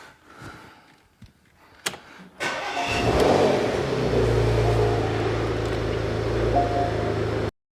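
A Porsche Macan with a PDK gearbox starts with a few clicks and a crank, then its engine catches and settles into a steady, fairly loud running drone close by.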